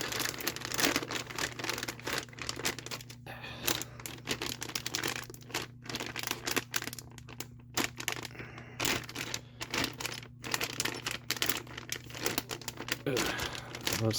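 Plastic packaging crinkles and tears steadily as an Entry Grade 1/144 Strike Gundam Solid Clear model kit is unwrapped, with dense close rustling and snagging crackles throughout and a low steady hum beneath.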